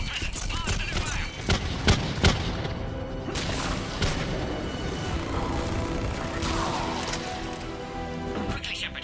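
Bursts of gunfire and heavy booms on Sur'Kesh in the Mass Effect 3 video game, several sharp shots cracking over a dense, continuous battle din while voices talk over it.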